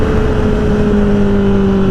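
A Honda CBR1000RR sport bike fitted with an M4 exhaust drones loudly and steadily up close, its engine note holding a continuous, slightly falling tone without any talk.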